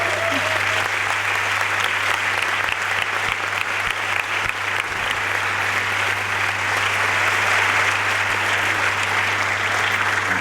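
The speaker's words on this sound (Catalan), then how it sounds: "Un fort aplaudiment" Audience applause at a Catalan-language community event in Sabadell, a loud, continuous round of clapping that holds steady throughout, with a low hum underneath.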